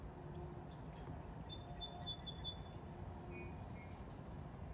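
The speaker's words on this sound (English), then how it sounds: "Birds are singing." Birds sing outdoors on Cape Cod during moderate rain, a few faint, thin chirps and short calls rising over a steady low rumble of rain and background noise.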